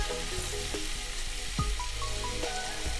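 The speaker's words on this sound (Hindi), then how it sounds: "ये एक चम्मच के करीब मैंने डाला है लहसुन, और इसको हल्का सा भून देते हैं।" Chopped garlic frying in a generous mix of butter and oil in a pan over full heat, a steady sizzle running throughout with a few light utensil clinks and scrapes, no one speaking.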